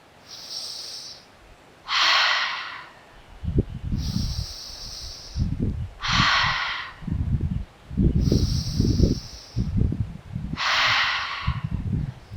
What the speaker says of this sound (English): breathing through the nose again and just breathing into the high chest